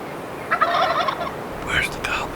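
A wild Rio Grande turkey gobbler in Oklahoma lets out two quick rattling gobbles close overhead, clear against a quiet outdoor background.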